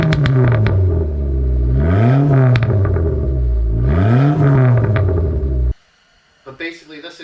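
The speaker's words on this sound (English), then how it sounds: "just revving it up a little bit, kind of went a little high just to try to get a little bit of poppy sound off of it" Dodge SRT-4 with a 3-inch MPX exhaust and high-flow cat revving up twice, loud rising and falling engine tone close by, then cutting to quiet with a brief faint sound near the end.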